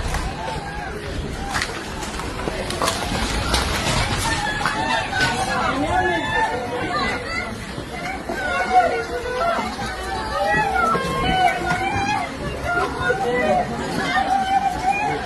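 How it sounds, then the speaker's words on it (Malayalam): Women scream and cry out amid a noisy commotion inside a bus just after a road accident at Aluva, with overlapping voices and chatter continuing throughout. "ആ ബസ്സിനകത്ത് നിന്ന് നിരവധി സ്ത്രീകളുടെ നിലവിളിയും അല്ലെങ്കിൽ അവരുടെ ബഹളങ്ങൾ ഉണ്ടാകുന്നുണ്ട്"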